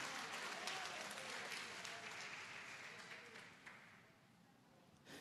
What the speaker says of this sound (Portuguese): Você aplaude ao Senhor e glorifica.